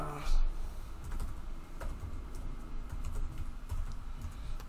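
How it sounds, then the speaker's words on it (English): Steady clicking of fingers typing on a computer keyboard while entering an email address at a login page, close and fairly quiet with an even, continuous patter. "I'm gonna put in the email address. I need to type that."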